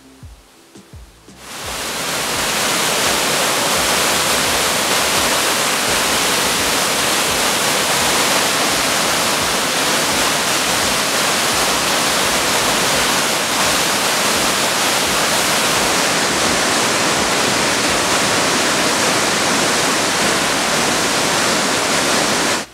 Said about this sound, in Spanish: Divídese la cascada mayor en dos cuerpos, debido al saliente de la roca, y va a perderse en un remanso